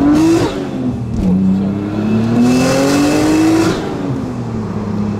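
A single-turbo Audi S4 B5 accelerates hard at full throttle, its engine note loud and close, rising through the revs, dipping at a gear change near the start, then climbing steadily again and easing off toward the end.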